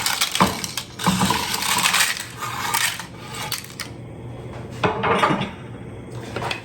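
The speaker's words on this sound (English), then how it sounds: "And now I'm just going to add the noodles. Just put those right in there." Dry lasagna noodles go into a skillet with crisp, rattling clatter and clinks, coming in a few busy bursts close up.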